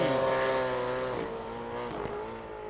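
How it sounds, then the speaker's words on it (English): Race car engine with a clear misfire, loud and close, a steady harmonic drone that stumbles and dips partway through before picking back up, heard during a circuit race as the car exits a turn. "it's definitely got a bit of a misfire happening there for Dave Freeman."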